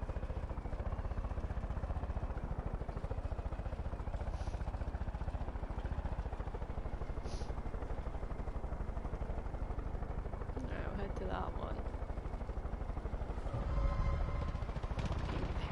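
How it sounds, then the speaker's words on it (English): A plane drones in the video game Far Cry 5 as a steady, dense engine hum that fills the whole stretch, with a few faint sharp sounds mixed in near the end. "there's a fucking plane somewhere"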